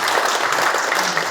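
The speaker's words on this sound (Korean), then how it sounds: "박수 한번 부탁드리겠습니다" Audience at a Daegu-Gyeongbuk integrated new airport aviation policy advisory committee meeting claps steadily and fairly loudly throughout, a dense even patter with no voices over it.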